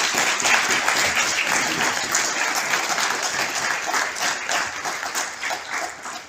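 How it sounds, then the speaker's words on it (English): A crowd at a university recruitment event gives the recruitment team a steady, loud round of applause, dense clapping sustained from start to finish with no voices over it. "we just give them a quick round of applause for all of the fantastic"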